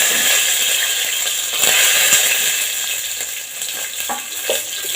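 Dried red chilies, mustard seeds and cumin sizzle in hot oil for hotel-style sambar, a steady close hiss of frying with faint crackles and pops throughout.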